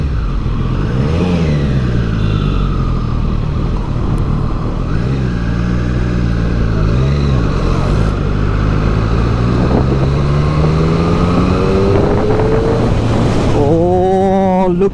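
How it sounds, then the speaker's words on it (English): A 2020 Triumph Street Triple RS inline-three motorcycle engine revs loudly and continuously while riding, rising and falling through throttle pulls and gear changes, with wind noise close by. "Look at that inline 3. Sounds so bloody good."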